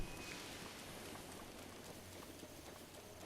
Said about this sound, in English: Yeah, it's the rain.